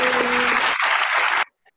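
Brief burst of clapping for a child in a children's club session, loud and close, lasting just over a second before cutting off abruptly into near silence.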